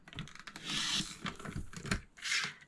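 Fabric being cut to a 3-inch length, likely with a rotary cutter against a ruler: a few scraping, rasping strokes with short pauses between them, close and fairly quiet, with no talking.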